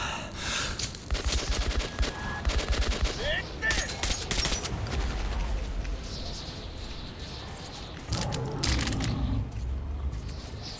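Soldiers fire guns at demons in the video game Metro 2033 Redux. Bursts of rapid gunfire and scattered shots come in clusters across the clip, loud and close, with a heavier burst near the end.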